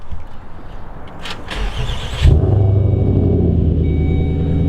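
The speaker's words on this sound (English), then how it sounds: "the good old straight pipe cold start from the S80 V8" A starter whirs briefly, then a Volvo S80 V8 with straight-pipe exhaust catches on a cold start with a loud burst and settles into a deep, rumbling idle that continues steadily.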